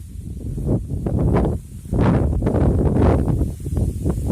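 Strong gusts of wind roar and buffet the microphone in uneven surges, with a brief lull midway before the blustering picks up again.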